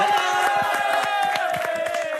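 A studio audience claps at a reality-game-show grand finale: a steady run of claps and crowd noise with sustained musical tones throughout, fairly loud.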